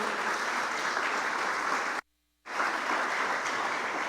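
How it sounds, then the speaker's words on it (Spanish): A church congregation claps steadily in a broad wash of applause, broken by a brief half-second dropout before the clapping resumes at the same level. "¿Cuántos aplauden el nombre del Señor?"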